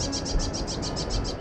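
A small bird hidden in grass calls with a rapid, evenly spaced string of high chirps, about nine notes in just over a second, close by over faint rustling.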